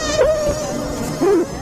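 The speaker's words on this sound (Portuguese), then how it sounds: "elas emitem ruídos de alerta aleatórios que parecem gritos" Honeybee alarm signals recorded in a colony in Vietnam: two abrupt, wavering, scream-like buzzes rising and falling in pitch over a continuous dense hum of the hive, close and loud.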